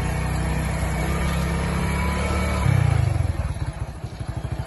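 Motorcycle ridden along a rural road near wheat fields, a steady close engine drone that rises briefly then settles into a pulsing putter, with no talking.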